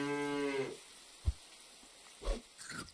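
A single cow moo from the video game Super Auto Pets, a short tonal low call at the start, followed by a few soft dull thumps in otherwise quiet game audio.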